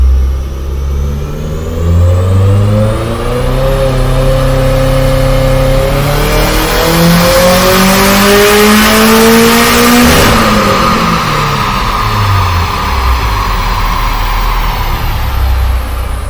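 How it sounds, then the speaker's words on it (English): A built 2.5-litre Subaru Bugeye engine revs hard and close, climbing steeply in pitch to a screaming peak, then dropping back to a rough, lumpy idle; loud throughout with no talking. "See if engine noise is the same or if I get a lot of extra noise again."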